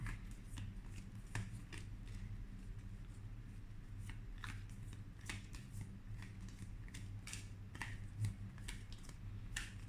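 Tarot cards are shuffled and laid out on a table, heard as quiet, irregular papery flicks and snaps close by over faint background hum.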